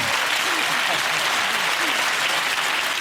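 Steady, dense applause from a studio audience for a comedy panel team, sustained and fairly loud for the whole stretch, with faint voices underneath.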